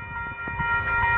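A train pulling into Zig Zag platform on the Zig Zag Railway near Lithgow, heard as a steady low rumble with faint tonal hum, rising slightly as it approaches.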